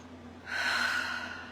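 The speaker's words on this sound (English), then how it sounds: "let's take another breath" A single deep inhale taken during a guided meditation, a soft rushing breath that swells after a short pause and holds steady, close and clear over a faint low hum.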